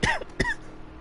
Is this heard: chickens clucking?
no